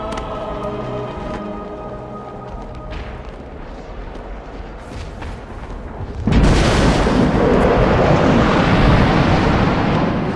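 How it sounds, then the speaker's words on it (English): Heavy artillery bombardment rumbles over a museum in the Batman Arkham City video game, a dense continuous roar of distant blasts that surges much louder partway through and stays loud to the end. "initial bombardment of the museum has been completed"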